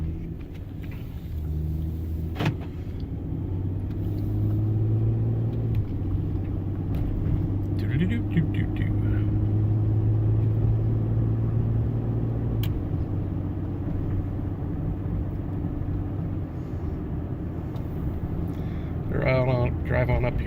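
A car driving along Funny River Road in Alaska, heard from inside as a steady low engine and road rumble throughout, with someone talking over it.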